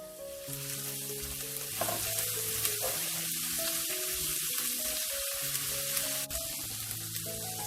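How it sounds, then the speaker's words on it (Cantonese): Minced ginger and garlic stir-fry in a hot wok with a steady, close sizzle, while a spatula scrapes and clatters against the metal in bursts and no one speaks. "爆一爆呢個薑蓉、蒜蓉"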